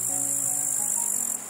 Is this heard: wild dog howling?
no